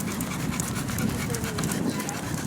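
A pit bull panting on a walk outdoors, rapid steady breaths amid constant wind and ambient noise, with someone talking over it.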